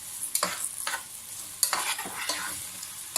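Okra fries in a pot for a dongo dongo recipe, a steady hissing sizzle with a few stirring scrapes scattered through it, close and fairly loud, no voices.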